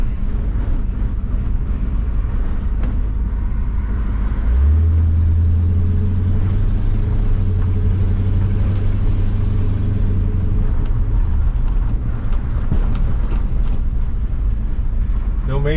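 A 1974 International truck engine drones steadily on its first drive in many years, a loud continuous low rumble with a deeper hum rising midway, mixed with wind noise.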